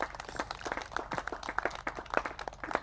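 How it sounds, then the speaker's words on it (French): A small audience at a storytelling gathering about famous women of Congo claps faintly, the scattered, irregular claps sounding distant and soft. "On applaudit très fort,"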